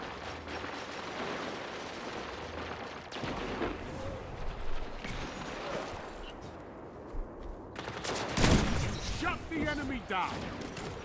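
Destiny 2 gunfire: heavy booming hand cannon shots ring out sporadically, with a loud burst near the end, while a person talks over the action.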